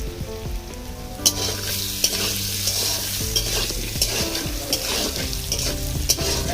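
Potatoes frying in a pan with bay leaf, turmeric and salt, a loud close sizzle with frequent stirring scrapes and a few utensil clinks against the pan, no talking.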